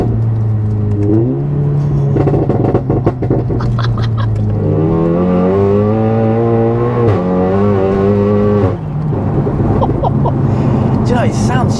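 A fully built 600 bhp Volkswagen Golf GTI TCR engine revs repeatedly, loud and close, its pitch climbing and dropping in steps, while people talk over it.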